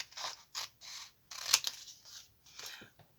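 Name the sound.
scissors cutting paper for card making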